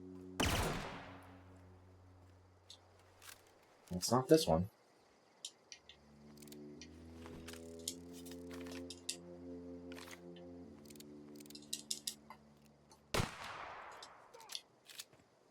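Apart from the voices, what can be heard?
gunshots from energy weapon firing in The Outer Worlds video game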